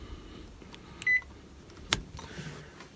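A microwave oven, just plugged in, gives a short electronic beep followed shortly by a second sharp beep, faint clicks and room noise around them.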